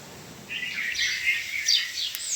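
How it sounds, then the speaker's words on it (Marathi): Morning birds chirp and twitter in bright, high bursts over a quiet background, the calls rising and overlapping toward the end. "पक्ष्यांचा चिवचट कलकलाटमध्ये सकाळ उजडलेली आहे"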